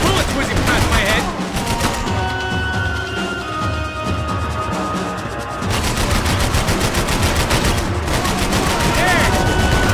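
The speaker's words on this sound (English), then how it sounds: "I can't concentrate with bullets whizzing past my head!" Sustained bursts of rapid gunfire from the Max Payne 3 video game crackle loudly throughout, with dense overlapping shots and whizzing bullets and a brief lull in the middle before the barrage resumes.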